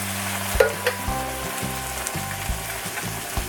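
Canned diced tomatoes hitting a hot pan for a sweet potato chickpea curry, giving a loud, steady close sizzle with a few clanks and scrapes as they are stirred in.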